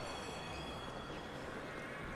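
A metro train in the video game The Ascent rolls in with a steady, dense rumble and faint wheel squeal, continuous and moderately loud throughout, with no speech.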